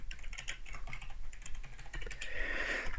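Rapid, uneven clicking of fingers typing code on a computer keyboard, close and fairly quiet, with short pauses between bursts and no speech.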